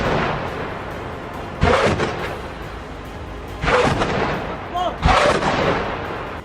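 Artillery fire in the Israel–Hezbollah conflict near a military site in the Kafr Shouba hills of Lebanon: three loud, booming blasts at irregular intervals over a steady rumbling background, with no voices.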